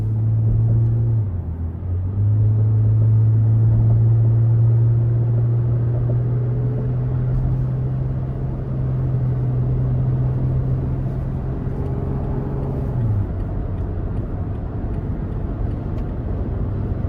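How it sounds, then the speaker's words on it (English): A 2023 Toyota Tacoma SR Access Cab engine pulls under throttle, a steady low drone that holds its pitch, dips briefly, then climbs and settles as the truck accelerates, heard from inside the cab with continuous road rumble and no talk. "So we'll give it a little throttle here."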